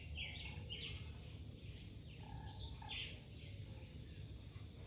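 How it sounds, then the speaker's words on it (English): Birds chirping at Rockland bird sanctuary in Jamaica: repeated short, high tweets and calls scattered across the clip, fairly faint over a steady low outdoor rumble. "These birds are pretty, man."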